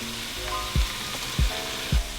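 Pieces of rotisserie chicken dropping into a hot pan with cooked onion, a steady sizzle punctuated by three soft thuds at regular intervals, close and clear with no talking.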